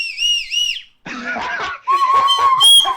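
A slide whistle plays a quick wobbling tune of swooping, glissando tones, then breaks into a noisy, reedy burst before rising again into higher sliding notes, loud and close with no talk.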